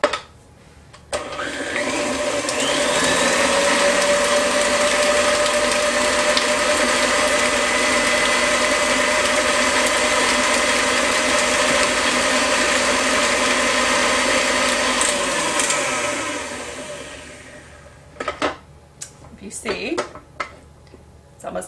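An electric mixer creams softened unsalted butter and cream cheese together for cookie cups. It runs as a steady, loud whir for roughly fifteen seconds, then cuts off, leaving a few scattered clanks.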